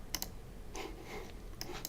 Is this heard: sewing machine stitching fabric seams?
no